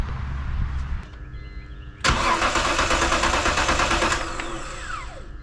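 A high-mileage BMW engine cranks loudly and steadily for about two seconds during a compression test, a dense rhythmic churning that then stops, with quieter mechanical background before and after.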